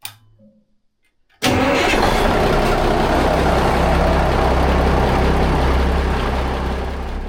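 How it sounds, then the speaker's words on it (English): A boat engine cranks and catches after a quiet start, then settles into a loud, steady idle with a low, even rumble that runs to the end. "So let's get the engine started and anchor up"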